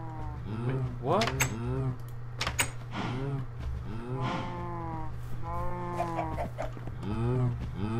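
Cows in the Minecraft video game moo repeatedly: several drawn-out, loud calls that overlap and follow each other in quick succession over a constant low background hum.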